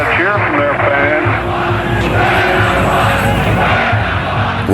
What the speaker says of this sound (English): The Montreal Expos get a cheer from their fans.